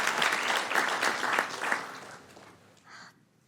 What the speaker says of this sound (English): big round of applause for our school board member